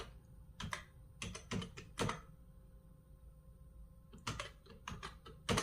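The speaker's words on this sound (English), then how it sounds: "in the search option we again click over here and we'll type ForestGPT." Keys clatter on a computer keyboard in a few short, quiet bursts separated by pauses, alone without speech.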